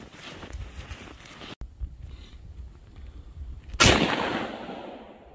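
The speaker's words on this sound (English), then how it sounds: "We'll put the paper on the box and shoot a shot load at it." A shot load fired from a home-rifled gun barrel at a paper target on a box at a range: one loud sharp blast near the end, with a decaying tail, after a stretch of quiet outdoor background.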